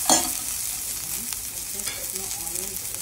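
Garlic and curry leaves frying in hot oil for an onion tomato chutney, a loud continuous sizzle close by, with a spoon stirring and scraping the pan.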